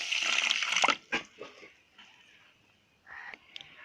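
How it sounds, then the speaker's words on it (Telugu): Water pours from a cup into a bowl of sugar for a syrup, a short close splashy pour followed by a few faint trickles and clinks. "ఈ చక్కెరలో 1/2 కప్పు వాటర్ పోసుకుందాం."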